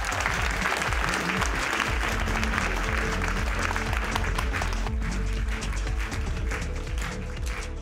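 Audience at a 2023 textile industry conference applauding a keynote speaker, a dense sustained burst of clapping from a crowd that holds steady for several seconds, then begins to thin near the end.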